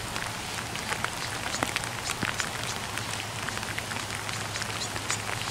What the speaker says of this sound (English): It's raining out here though. It's raining pretty bad